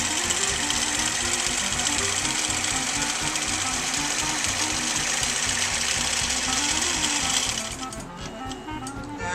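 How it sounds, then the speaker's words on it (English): A sewing machine stitches a quilt circle with a fast, steady mechanical chatter, close and continuous. It eases off slightly in the last second. "I'm going to stitch the circle."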